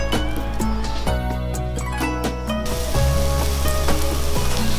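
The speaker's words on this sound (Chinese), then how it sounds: "油热了可以开始烙饼了" Sesame-coated flatbread dough frying in hot oil in a pan, a continuous loud sizzle and crackle mixed with steady tonal background sound.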